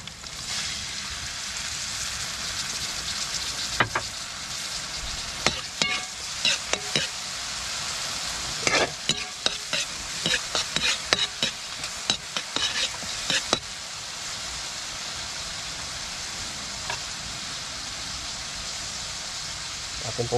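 Dried fish and bitter gourd fry in a pan with a steady, bright sizzle, while a utensil scrapes and clatters against the metal in irregular clusters of stirring.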